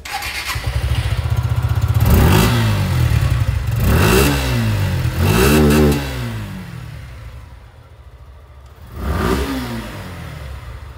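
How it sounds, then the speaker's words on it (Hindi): A Suzuki Gixxer 155 BS6 motorcycle idles close by and its exhaust is revved in four sharp bursts. Each rises and falls quickly, with a deep, bassy tone, and the engine settles back to idle between bursts. "चलिए अब मैं आप लोग को इसकी जो एग्जॉस्ट साउंड है वो भी सुना देता हूँ"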